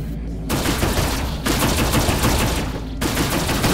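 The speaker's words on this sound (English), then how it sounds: "So combat laser." Combat laser fire from a Sequoia light cargo ship in the space game Rebel Galaxy: a dense, continuous barrage of rapid zapping shots, loud and close, with two brief lulls breaking the stream.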